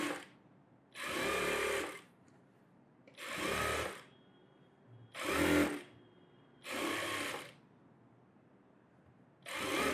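A sewing machine runs in five separate bursts of steady stitching around the lining of a net blouse, each lasting about a second or so with quiet pauses between, close and fairly loud.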